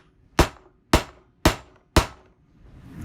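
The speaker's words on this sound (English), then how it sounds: "Let me give it a couple whacks." Four sharp, evenly spaced hammer whacks ring out close by as a 2018 Chevy Camaro catalytic converter is hollowed, each hit decaying quickly before the next.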